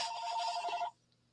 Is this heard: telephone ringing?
yes